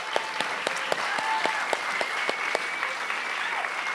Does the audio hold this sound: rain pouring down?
no